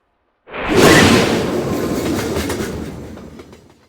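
A passenger train with a caboose starting up out of silence, with a sudden loud rumbling roar, rhythmic clickety-clack of wheels on the rails, and a gradual fade over a few seconds.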